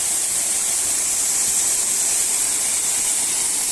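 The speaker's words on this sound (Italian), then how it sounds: "Questa è la prima cascata, cioè la prima che abbiamo incrociato." The Dardagna waterfall at Corno alle Scale cascades in a steady, dense roar of rushing water, close and loud throughout with no break.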